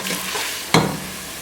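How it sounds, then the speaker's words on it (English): Onion frying in a pan toward light golden brown produces a steady, close hiss, interrupted once midway by a single sharp knock of a stirring spoon. "I'm going to fry this onion until it becomes very light golden brown."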